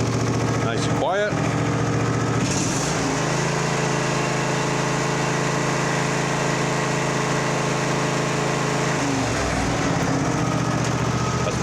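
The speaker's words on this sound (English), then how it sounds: "That's better. Sounds real nice, actually. Nice and quiet." A Massey Ferguson Simplicity riding mower engine runs with a freshly welded exhaust, idling steadily and evenly at moderate loudness with a fairly quiet tone, after a brief clatter at the start.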